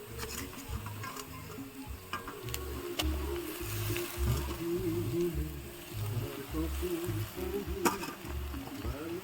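Onions frying in a pan until reddish, giving a low, steady sizzle with occasional light ticks of a utensil, close by and fairly quiet.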